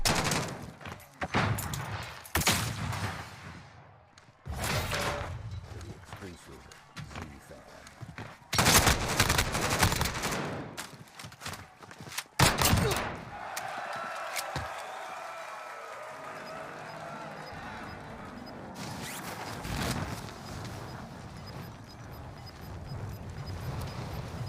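Call of Duty: Warzone gunfire rattles in loud, dense bursts of rapid shots separated by brief lulls, then gives way to a lower sustained rumble of distant combat.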